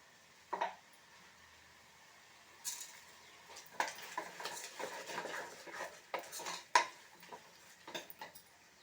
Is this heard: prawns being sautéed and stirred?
yes